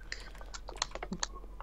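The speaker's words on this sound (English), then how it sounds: "I hate typing your name, so I just go through the things I previously said." Someone types on a computer keyboard in rapid, irregular keystrokes while typing in-game chat during a Minecraft Super Smash Mobs match, a soft, close clatter with no talk over it.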